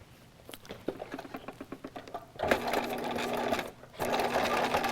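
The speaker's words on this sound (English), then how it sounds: "And I'm just going to use a straight stitch." Sewing machine running a straight stitch through a paper envelope album, rapid mechanical stitching bursts starting slowly, then a faster continuous run with a brief pause, close and clear.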